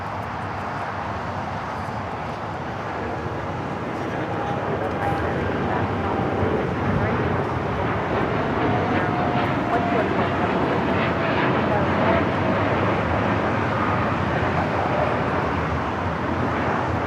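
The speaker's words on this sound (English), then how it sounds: "This United Airlines 1855 taking off to Newark on the 787-9 Dreamliner." A United Airlines Boeing 787-9 Dreamliner takes off at Los Angeles airport, a loud, steady broadband jet roar that swells slightly and holds close throughout, with a voice speaking intermittently over it.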